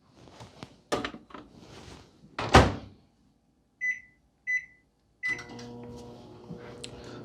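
Microwave oven warming food for another ten seconds: a door clunk and clatter, three short beeps from the keypad, then a steady low hum of the running oven.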